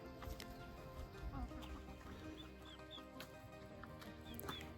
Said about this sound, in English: But very, very cute chicken.